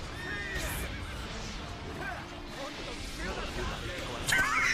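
Horse neighing in the fighting game JoJo's Bizarre Adventure: All Star Battle, a whinny rising over busy game effects and hoofbeats, with people talking over it.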